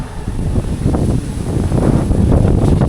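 Strong wind gusting outdoors, buffeting the microphone with a steady, loud rumble that swells and eases across the whole stretch, with no voices over it.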